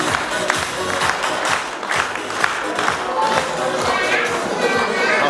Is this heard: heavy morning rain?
no